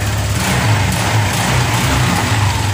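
A Honda Vario 150 scooter engine is cranked by its starter motor and runs, giving a loud, close, steady low mechanical drone with slight pulsing throughout.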